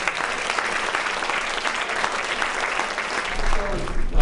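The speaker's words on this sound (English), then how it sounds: "How about a round of applause for all" An audience at a university foundation faculty presentation applauds, producing dense, steady clapping that fills the whole stretch and swells slightly toward the end.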